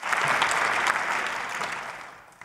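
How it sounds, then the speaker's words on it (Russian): A Bundestag ovation during a special session on Russia and Ukraine, heard as a broad wash of applause from a large chamber that is strong at first and gradually fades away, with no speech over it. "Овации довольно долгие, но потом будут места, где они будут еще дольше, гораздо дольше и гораздо мощнее"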